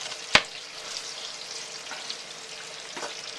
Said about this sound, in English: we're going to start frying up some chicken